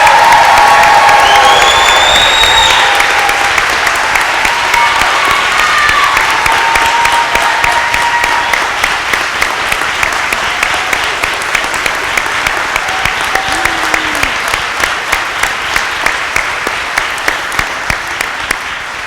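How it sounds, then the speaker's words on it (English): Sustained applause from a commencement crowd honoring graduates at the Baylor Law 2018 summer ceremony, dense and loud at first with a few whoops, settling into steadier rhythmic clapping that slowly thins over nearly twenty seconds. "how about one more round of applause for our graduates as they're all coming back"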